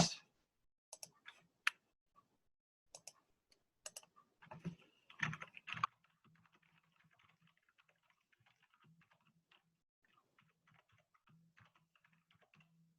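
Numbers being punched into a calculator for a calculus related-rates problem, a handful of sharp separate key clicks followed by a faint, rapid run of lighter tapping, close and alone.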